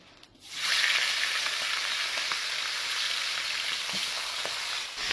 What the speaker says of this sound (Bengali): মাছের মাথাগুলোকে আমি ভালো করে হ্যাঁ হলুদ নুন মাখিয়ে নিয়েছি, এবার ভেজে নেবো, একদম কড়া করে ভাজতে হবে।